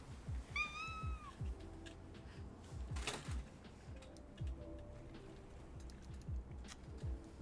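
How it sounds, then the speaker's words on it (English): A tiny cat gives a sharp, rising meow-scream near the start, followed by faint ticking and soft rhythmic tapping in a quiet indoor room. "Tiny cat screams."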